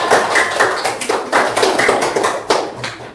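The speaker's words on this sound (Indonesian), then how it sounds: "Tepuk tangan dulu buat kita." A class of Indonesian students claps for themselves after singing the national anthem; many hands clap close and loud in uneven bursts throughout, with no talk.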